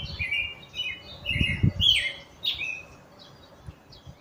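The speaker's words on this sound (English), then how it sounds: "just listen to the birds" Birds chirp outdoors on a chilly Ohio morning, with several bright, quick calls that repeat close by, some louder and some fainter, over a low rumble of background noise and no talking.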